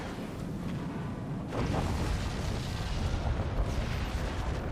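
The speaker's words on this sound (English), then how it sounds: "Death by nuclear launch." Nuclear launch detonation in the strategy game Forts, a heavy explosive boom bursting in after a low rumble and rolling on as a loud, dense roar.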